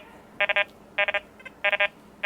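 A Minelab X-Terra Elite or Nokta Triple Score metal detector at iron volume 10 gives loud, close, repeated bursts of warbling beeps, three quick pulses per group, with no talking.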